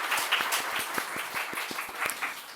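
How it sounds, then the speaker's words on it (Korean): A church congregation claps together after a Sunday afternoon worship meal, many hands close by in a lively, uneven patter that runs steadily through the moment without talk. "어쨌든 오늘 너무 잘 먹었으니까 우리 박수라도 한번 칩시다."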